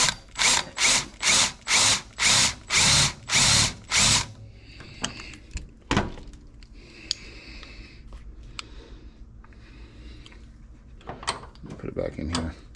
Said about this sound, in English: you can take and you can drill these down a little bit more.